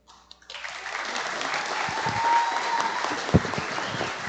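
An audience at a panel event on social mobility through entrepreneurship bursts into steady, close applause that swells and then holds, a few sharp louder claps standing out.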